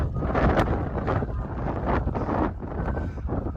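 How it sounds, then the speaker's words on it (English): Strong wind buffets the microphone on a misty hillside near the Glossop Low Quarries, a loud, continuous, gusting roar that swells and eases in waves. "Right now, as you can probably tell, it's pretty windy and it's quite misty."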